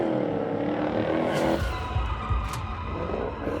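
Car drifting with a loud, close tire squeal that sweeps and fades over a few seconds beneath engine roar, with no talking.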